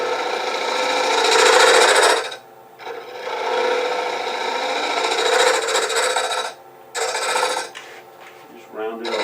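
Sandpaper rasps against a simple wooden toy wheel spinning on a wood lathe, a steady close rubbing hiss broken by two short pauses, with no talking.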